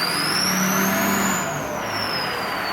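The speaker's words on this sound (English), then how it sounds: "So the turbo is a little bit noisy, I guess you could say." A truck's turbocharged engine accelerates loudly on a road hemmed in by walls, a steady roar with a rising, then falling turbo whine held close and continuous throughout.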